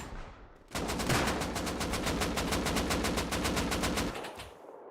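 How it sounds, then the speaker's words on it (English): Loud, close automatic gunfire in a video game: one sustained burst of rapid, evenly spaced shots that lasts several seconds after a short quiet lead-in. "A lot of bullets flying right here."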